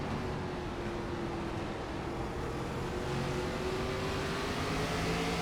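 ARCA Series race car engine running on track at Kern, a steady droning roar with rising pitch held throughout at moderate distance, no talk.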